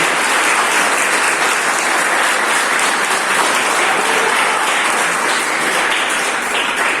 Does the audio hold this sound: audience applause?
yes